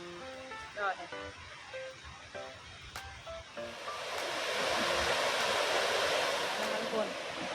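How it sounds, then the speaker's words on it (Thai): A waterfall at a national park in Thailand rushes as a steady, broad roar that swells loudly partway through, while people talk over it in the first half. "นี่เสียงน้ำตกก็ดัง"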